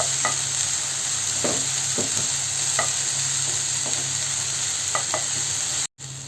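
Dried prawns are stirred in a frying pan, a soft steady dry rustle with scattered scrapes and taps of a spatula at close range and no talking.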